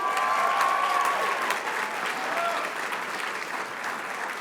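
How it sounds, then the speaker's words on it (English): An audience at a Jobs for America's Graduates student leadership academy gives a strong round of applause for the organization's new president and CEO, Janelle Dure; dense, sustained clapping that tapers slightly toward the end, with faint voices mixed in. "Let's give her a round of applause"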